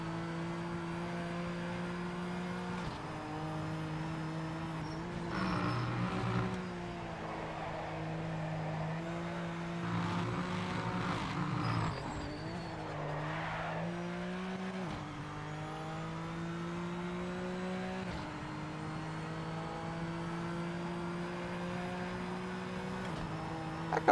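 Race cars in the game Project Motor Racing drone steadily with engine pitch rising and falling through gear changes, with tyres squealing and skidding as a car runs into gravel, continuous and close.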